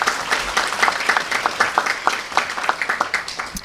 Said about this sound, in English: could I have a round of applause for our volunteers?